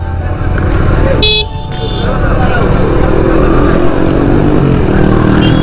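Motorcycles and cars at a Victory Day rally in 2021, a loud continuous engine drone with a few short horn toots, crowded traffic close by.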